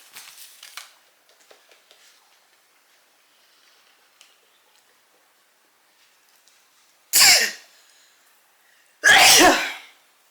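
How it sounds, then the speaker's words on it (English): Two loud, abrupt sneezes a couple of seconds apart, after a long stretch of near silence and faint rustling. "every perfume makes me sneeze though."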